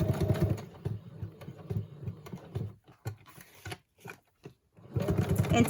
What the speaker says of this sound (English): stitching around your tags and stuff is so easy and super fast to do